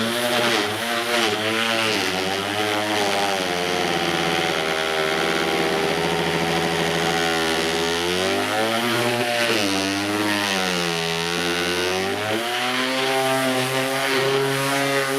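Makita 18V cordless sheet sander running under heavy downward pressure, a loud steady buzzing drone whose pitch dips and recovers as it is loaded, continuous with no talk.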